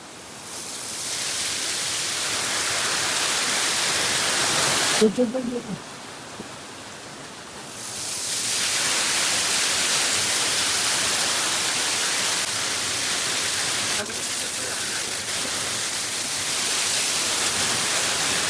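A hidden waterfall in Karjat pours with strong flow, a loud steady broadband roar that fills most of the stretch, dropping briefly while a voice speaks before the rushing water swells back in.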